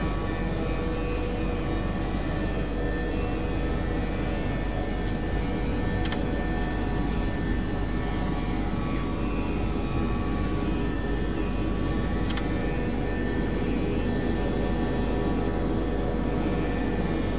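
Airbus A380 jet engines in the FSX flight simulator game, climbing after takeoff: a steady, dense roar that holds at the same loudness throughout, with no voices over it.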